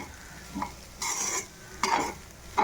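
Home rice being stir-fried with vegetables in a pan over a high flame, heard as a low sizzle broken by three bursts of scraping and tossing, close and loud, no talking.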